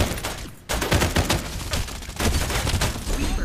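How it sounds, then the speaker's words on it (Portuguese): Gunfire from several enemies in the video game Farlight 84, dense loud overlapping bursts of rapid shots with short gaps, filling the whole stretch without speech. "Ixi, galera, são 4 que estão atirando em mim."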